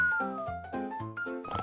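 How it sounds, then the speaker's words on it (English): Cartoon cat vocalising in a short series of meow-like, tonal cries, close and clear, several calls in quick succession with no talk. "Lola Cat dozes off in a mini kitchen"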